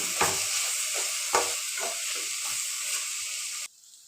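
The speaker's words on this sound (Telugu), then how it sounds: "ఇప్పుడు బాగా కలుపుకోవాలండి." Cabbage fry with pepper powder and homemade masala stirred in a hot pan, a steady sizzle with repeated scraping strokes about twice a second, stopping abruptly near the end.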